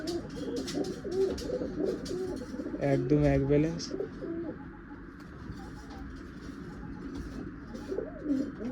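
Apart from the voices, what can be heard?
noyar pigeons cooing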